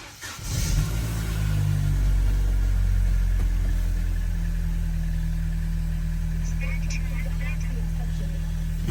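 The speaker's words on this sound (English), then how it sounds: "I'm going to start the car." A Vauxhall Zafira engine cranks and catches, then settles into a steady low idle after oil pump and timing cover repairs, loud and close with a voice talking over it.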